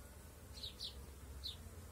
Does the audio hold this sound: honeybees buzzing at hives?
yes